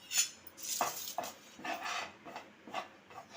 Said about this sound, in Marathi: आता डाळीचं पीठ म्हणजे चना डाळीचं पीठ आपण भाजून घेऊया